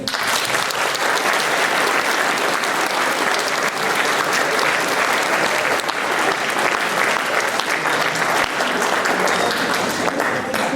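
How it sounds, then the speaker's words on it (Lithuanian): Loud, sustained applause from a large school crowd celebrating graduating twelfth-graders at a last-bell ceremony, dense steady clapping filling the whole stretch without pause. "Palinkėkime sėkmės dvyliktokams garsiais plojimais."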